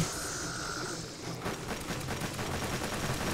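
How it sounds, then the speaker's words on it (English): Rapid gunfire from a floating Death Cube drone in the video game Warframe, a steady dense rattle of shots fired from range that runs continuously after a brief electronic whine at the start. "the Death Cube is shooting from range"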